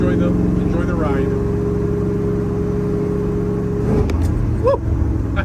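A 1963 Chevrolet Impala with a big-block engine and four-speed gearbox drives along, its engine holding a steady, rumbling drone that shifts and drops in pitch about four seconds in, with road noise underneath.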